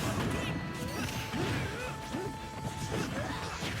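Squelching, splattering jungle mud effect from a Super Smash Bros. doubles match, several wet smacking bursts against a busy, continuous game soundscape with layered effects throughout.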